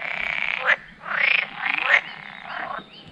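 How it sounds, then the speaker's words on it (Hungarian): Frogs croak in the Kopácsi-rét wetland in a series of rising, nasal calls, several overlapping in bursts about a second apart, moderately close with no talk. "Azon a területen van vagy 10 béka."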